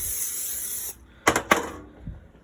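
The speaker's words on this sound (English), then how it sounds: "So next step is to spray our torte pan." Cooking spray hisses steadily onto a torte pan for about a second, followed by a few sharp metallic clinks and a soft knock in a quiet kitchen.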